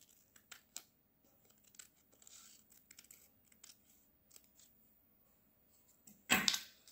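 Scissors snip through paper to cut a circle for a moon-phases craft: a few sparse, quiet clicks and cuts, then one loud, close burst of cutting near the end.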